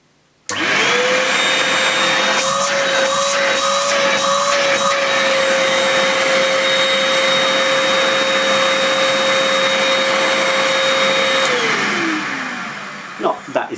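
An Oreck XL Compact 500-watt canister vacuum cleaner starts and runs with a loud, steady whine and brief bumps, then winds down near the end, heard close and alone.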